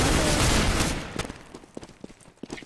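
Gunfire in Counter-Strike: a dense, loud burst of shots that trails off after about a second into scattered sharp pops and clicks, close and punchy with no talking.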